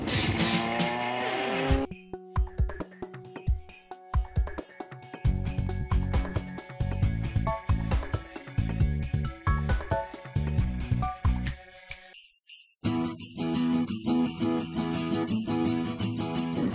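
Renault 5 Turbo rally car engine revving hard, with sharp throttle blips, rapid gear changes and rising and falling pulses over roughly sixteen seconds, loud and close, with bursts of tire squeal and gravelly skidding between the engine runs.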